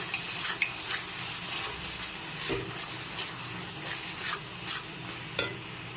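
Spoon scraping and stirring ground spices through a fried onion, ginger and garlic paste in a pan, repeated short scrapes and knocks over a soft steady sizzle, close by.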